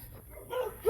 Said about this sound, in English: I hate it when it's a pack of dogs